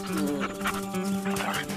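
Hunting dogs barking, with short yelping barks and whimpers heard fairly faint over a tonal background hum.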